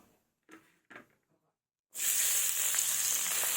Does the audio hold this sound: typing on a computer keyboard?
no